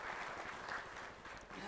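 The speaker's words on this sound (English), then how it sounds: "So I think it deserves a huge round of applause." Brief burst of audience clapping at an investor protection conference, a steady close wash of applause lasting under two seconds.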